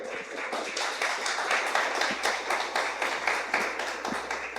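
A church audience applauds the Lord during a sermon, a steady rhythmic clapping from many hands that holds an even pulse throughout.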